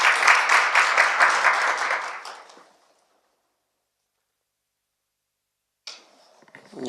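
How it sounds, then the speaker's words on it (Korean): Audience at a parliamentary forum on high school system reform claps together for about two and a half seconds, then fades to silence before a short burst of room noise. "박수를 한번 쳐주시죠"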